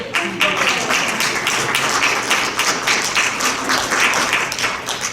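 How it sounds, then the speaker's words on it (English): Loud audience applause at a talk, many hands clapping together in a continuous, lively burst that stays strong from start to finish. "Applause of Afonso Soares."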